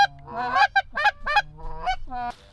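Geese honk repeatedly in a busy series of loud, nasal calls, some overlapping, close by, during a field goose hunt in Ohio.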